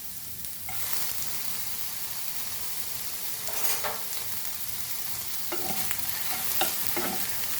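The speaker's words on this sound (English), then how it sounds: "And now we will add our onion and tomato and fry this" Onion and tomato fry in a pan on low flame, a continuous moderate sizzle with occasional scraping stirs from a utensil, close and without talk.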